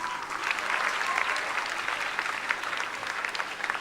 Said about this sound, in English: Let's send a reverberating round of applause so that they hear wherever they are